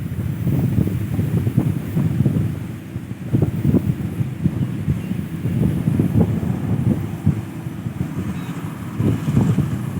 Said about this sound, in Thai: ลมก็แรงมากครับ